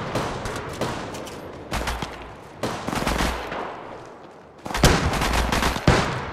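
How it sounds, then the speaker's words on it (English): Automatic weapon fire in the mobile shooter Apex Legends Mobile, rapid loud bursts of rattling gunshots separated by short gaps, with several sustained volleys and heavy sharp reports, no talking. "Shots fired and they're hitting me."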